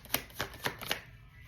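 Tarot cards shuffled and drawn by hand, four crisp card slaps or flicks spaced about a quarter second apart, close and fairly loud, with a quieter rustle trailing off.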